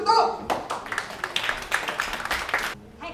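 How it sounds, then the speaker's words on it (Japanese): Welcoming applause for performers at a live music festival, a scattered round of claps from a modest crowd, moderately loud, with a voice speaking briefly at the start before the clapping fades out. "では大きな拍手でお迎えください。"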